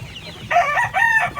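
Farm chickens, with young chicks among them, give a short close crow-like call in two bursts over soft clucking, loud and near, with no speech.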